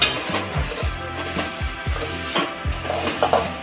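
Dry broken rice scraped and stirred as it roasts in a hot pan, repeated rhythmic scraping strokes over a low sizzle, close by.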